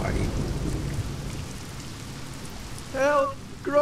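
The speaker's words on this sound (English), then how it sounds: "it's raining, that's why." Rain hisses softly and steadily in the Wallace & Gromit video game, a faint continuous patter, with a low rumble at the start and brief talk breaking in near the end.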